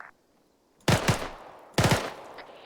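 Arma 3 video game gunfire: two quick bursts of rapid automatic shots, loud and close, separated by a short pause after a quiet start.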